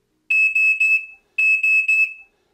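A smoke detector alarm sounds after its test button is pressed, giving two loud, close bursts of three shrill, piercing beeps each, separated by a short silence.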